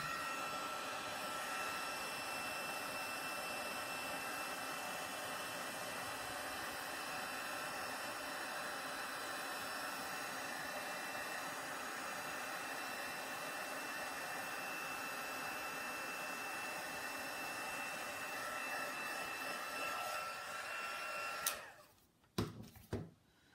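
A heat tool blows steadily while melting embossing powder, a continuous hissing whir held for about twenty seconds before it cuts off with a few brief knocks.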